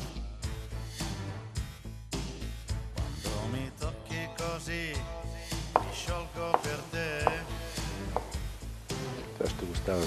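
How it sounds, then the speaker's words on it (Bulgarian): A knife finely chopping a tomato on a board, with rapid uneven close taps running throughout and someone talking over the cutting. "Нарязвам този домат малко по-надребно."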